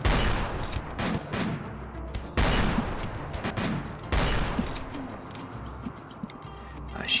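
Bursts of video game battle gunfire, with loud volleys of rapid shots at intervals and steady crackling between them, close and dense throughout.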